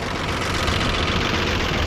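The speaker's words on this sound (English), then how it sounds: "And now it seems like it's idling." A car engine idling steadily after its idle screw was turned up a quarter turn, a close, even, continuous mechanical hum with slight rhythmic pulsing and no speech.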